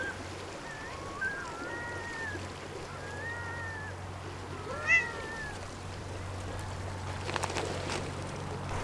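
A cat meows several times in short, rising and falling calls outdoors on a relaxed beach day, over a steady low background hum, with a louder call midway and some faint clattering near the end.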